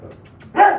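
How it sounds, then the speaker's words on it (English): A dog barks loudly at the mailman: one sharp, close bark after a few faint yips. "Sorry for the loud barking dogs."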